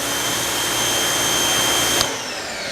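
An electric pressure washer fitted with a DeWalt 4.0-rated nozzle sprays in a steady, loud, broadband hiss with a motor drone beneath, holding constant before dropping slightly near the end.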